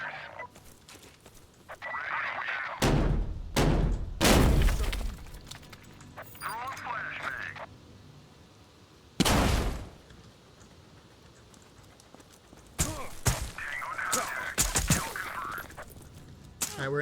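Gunfire and sharp blasts go off in a tactical shooter video game as a squad clears a building with a flashbang, giving several loud bursts and cracks between quieter stretches, with someone talking over much of it.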